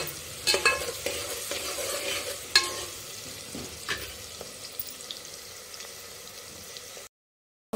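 Onions browning in a pan on a gas stove, with a soft steady sizzle and several scraping stir strokes early on that settle into quieter frying before a sudden cut to silence.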